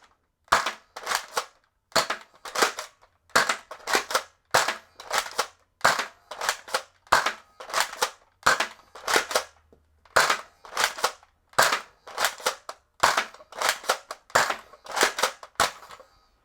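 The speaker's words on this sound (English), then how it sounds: "I just fired all of the rounds" Zuru X-Shot Turbo Fire foam dart blaster shooting about twenty darts in a steady rapid sequence of sharp snapping shots, each followed by a brief mechanical rattle, close and loud with no talking.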